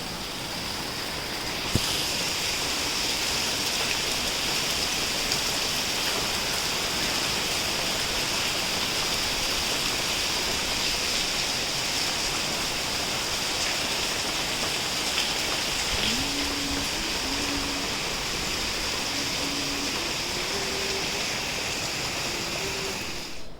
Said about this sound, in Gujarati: મસ્ત મજાનો વરસાદ આવે છે.